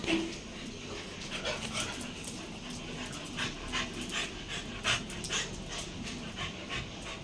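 Two dogs, an aspin and a shih tzu, pant after indoor play at bedtime, with quick breathy huffs and a few small whimpers and yips close by, steady throughout.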